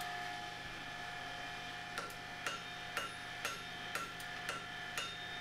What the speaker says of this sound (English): I'm trying to strike all over the surface, fast and light.